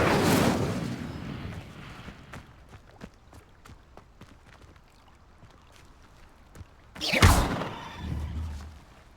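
An Incendio fire spell cast in the Hogwarts Legacy video game: a burst of flame at the start, then scattered footsteps and small impacts, and a second loud whooshing blast near the end.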